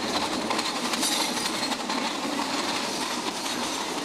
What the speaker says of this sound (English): This train is no slouch, picking up speed very quickly to pass through the jungles of Singapore and onto the Johor Causeway as it heads into Malaysia.